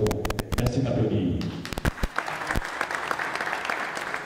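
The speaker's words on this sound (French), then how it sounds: "Merci d'applaudir." Audience applauding at a supporters' club general meeting, a dense burst of clapping that thins into scattered claps and crowd murmur.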